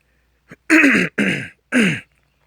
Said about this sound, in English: Excuse me, just clear my throat here.